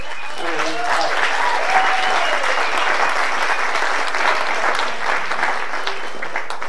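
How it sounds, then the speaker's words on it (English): Wedding reception guests break into a steady round of applause, dense and sustained for several seconds, with scattered voices and cheers mixed in. "So can we just give them all a round of applause?"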